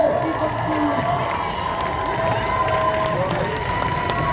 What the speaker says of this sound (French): Levez-vous, faites du bruit, un tonnerre d'applaudissements pour Gabriel, s'il vous plaît.